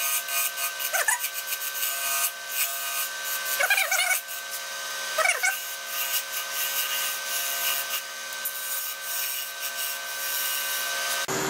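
Sanding a wooden burl box spinning on a lathe produces a continuous close, rough scratchy hiss with a whirring hum underneath and a few brief swelling passes of the abrasive.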